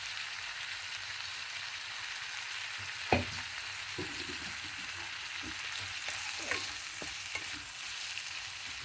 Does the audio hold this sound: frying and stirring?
yes